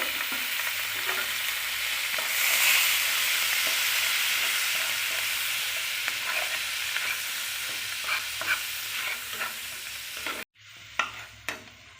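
Spice masala cooking with a splash of water in a pan for a Bengali eggplant dish, a steady close sizzle with scraping stirs throughout, then a sudden drop to near quiet followed by a few utensil knocks.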